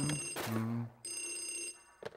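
A phone ringing in the telephone room of the Luigi's Mansion video game, a continuous high electronic ring that cuts out briefly and then resumes, with game tones and noise around it.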